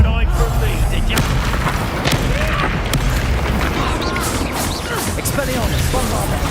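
Confringo and Bombarda explosion spells in the Hogwarts Legacy video game, booming blasts and crashes layered over dense, continuous game noise.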